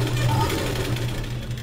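A sewing machine runs steadily, stitching fabric for a sleeve on a blouse or garment, with a continuous low mechanical hum throughout the short stretch.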